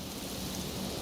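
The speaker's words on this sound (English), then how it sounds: "Is that just the storm?" Steady storm ambience from the Fallout 76 video game, a dense continuous wash of rain with a low rumbling undertone of thunder, even and unbroken throughout, with no voices.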